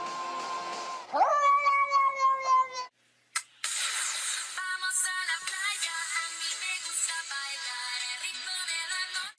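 A cat lets out a few drawn-out, wavering meows up close, followed after a short pause by bright, ringing electronic tones that fill the rest of the stretch.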